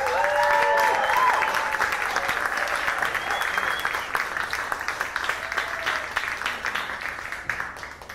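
A crowd at a small music venue applauds warmly after a singing duo's performance, a dense patter of clapping with a few cheers and whistles early on, gradually thinning out.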